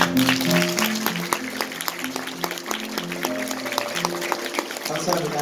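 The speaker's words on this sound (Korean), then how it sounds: "아낌없는 박수로 축복해 주시기 바랍니다" Wedding guests applauding the couple, a steady spread of close and distant hand claps under music, with brief voices over it.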